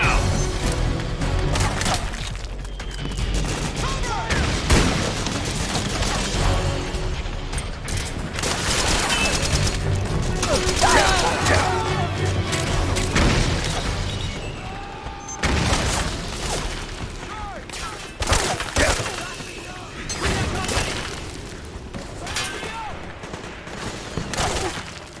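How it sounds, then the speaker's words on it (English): Dense, continuous battle din of soldiers' gunfire in Metal Gear Solid 4: Guns of the Patriots, with overlapping shots, booms and crashes throughout, fairly loud and busy with no pauses. "Suppressing fire!"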